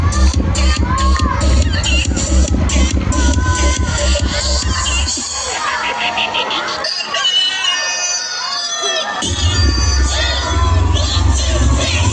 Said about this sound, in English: Cheer for your favorite team.